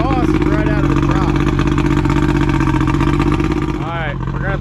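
Boat inboard engine running steadily at a low idle with a heavy, even mechanical drone, and a voice talks over it throughout.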